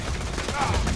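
Gunfire aimed at an explosive barrel in the video game Borderlands 2, a dense, loud burst of shots with a rumbling blast filling the whole second.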